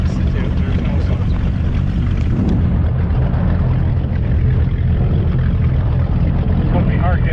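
A mahogany Gar Wood speedster roars at high speed across the water, its engine drone steady and loud throughout, with spray and rushing wind layered over it and voices faintly mixed in.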